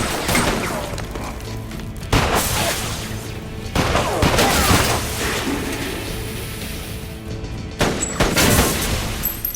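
Gunfight in a basement from an action film: repeated loud gunshot bursts and booms, several sharp volleys separated by brief lulls, close and harsh with rumbling echoes.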